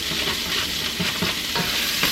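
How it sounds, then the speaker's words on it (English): Onions and garlic are stirred into a pot of soup beans, with a spoon scraping in a few rhythmic strokes over a close, steady sizzle. "I'm going to go ahead and add my onions and my garlic in there"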